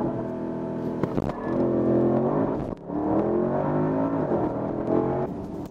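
A 642-horsepower car in Sport Plus mode accelerates hard from a stop, its engine note climbing through the gears with a brief dip at a shift, heard steadily from inside the cabin with no talking.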